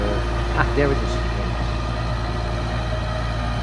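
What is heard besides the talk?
hydraulic pump of hydrogen electric tractor running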